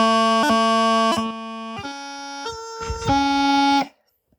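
A reedy bagpipe practice chanter plays a short melodic phrase of held notes broken by quick grace-note flourishes, clear and close, then stops.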